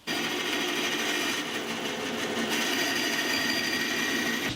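A power tool rips a piece of Santos rosewood to width for guitar fretboards, giving a continuous loud, even whine and whirr that holds steady for several seconds.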